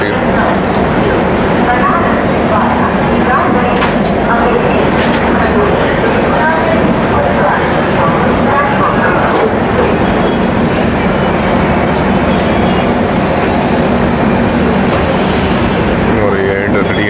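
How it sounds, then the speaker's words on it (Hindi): The Varanasi–Lucknow Intercity Express special pulls out of a station with a steady, loud rumble and rattle of rolling coaches and wheels, continuous throughout, while someone talks over it. "और ये खड़ी है Varanasi Lucknow express special, intercity का डिपार्चर है"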